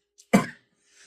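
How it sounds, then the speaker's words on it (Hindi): A single close cough from a woman who has had a lingering cough for ten days, preceded by a tiny faint sound and followed by near silence. "हाँ थोड़ी खांसी हो गई यार।"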